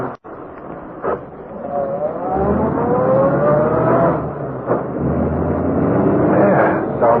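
A car engine from an old-time radio drama rumbles steadily and revs with rising pitch as the vehicle drives off, holding loud and close for several seconds with faint voices mixed in.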